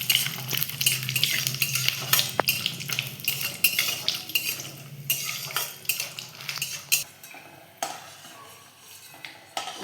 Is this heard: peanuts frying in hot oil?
yes